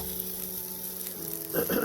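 Food sizzles steadily in a small frying pan, a close crackling hiss with a brief louder clatter near the end.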